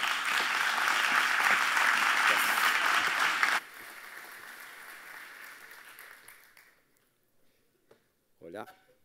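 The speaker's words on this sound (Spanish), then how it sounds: "Los dejo ahora sí con un fuerte aplauso, lo recibimos." Loud audience applause at a Move Movistar 2018 conference greets the speaker, a dense burst of clapping that stops abruptly, then a quieter tail of scattered claps fading out before a voice and a microphone bump.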